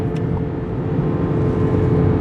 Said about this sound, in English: That's the sound of being in low mode on the highway